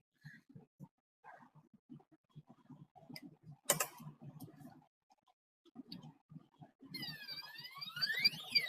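A wireless interconnected smoke alarm sounds during a fire safety camera demo, its rising and falling electronic tones building toward the end under ongoing speech and background noise.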